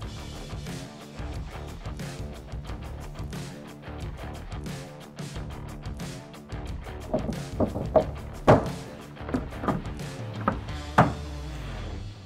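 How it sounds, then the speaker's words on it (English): Plastic ammo can lids are fitted onto a DECKED storage system in a Ram truck bed, producing a long series of hollow thunks, knocks and clacks, with several sharper snaps toward the end, all close by. "Now it's just time to tighten our J-hooks and install our ammo can lids."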